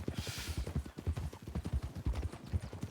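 Horse hooves clip-clopping in a rapid, steady rhythm, close and fairly loud, with faint background noise and no speech over the clatter.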